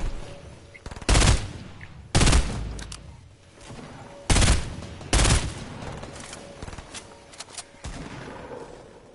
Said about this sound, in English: Phil's given up shooting enemies. Shooting friendlies instead.